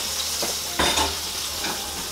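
Prawns fry in prawn oil in a pan with a constant close sizzle, broken by a couple of short louder bursts as they are moved.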